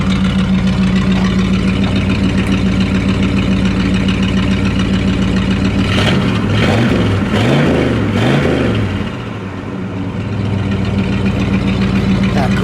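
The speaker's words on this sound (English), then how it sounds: "you can rev it up a little bit, we'll hear that exhaust too" A 1972 Buick GS 455 V8 idles with a steady, deep exhaust burble, then revs several times in quick succession before settling back to idle.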